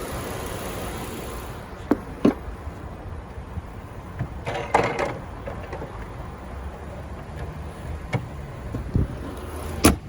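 A steady low engine idle from a 2015 Ford Explorer XLT SUV hums evenly in the background, with a few faint clicks and knocks scattered over it; no talking.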